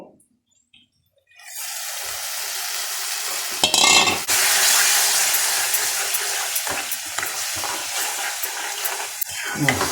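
Bombay sagu, a potato curry with boiled potatoes, being stirred in a hot pan, a steady close sizzle and scraping that begins after a quiet second and runs on with spoon clatter and no talk.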